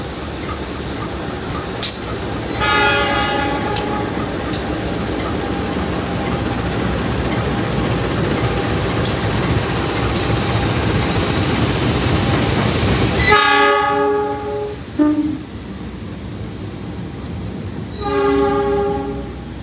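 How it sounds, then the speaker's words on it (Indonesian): The Lodaya passenger train rumbles steadily and loudly, then a long, blaring horn sounds in several repeated blasts as it rolls into Cipeundeuy station. "Kereta api Lodaya baru tiba, masuk di Cipendei, masuk jalur 2."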